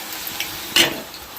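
Whole spices hit hot oil in a cooking pot with meat, a brief bright crackling burst at the middle over a low steady sizzle, with a couple of small clinks around it.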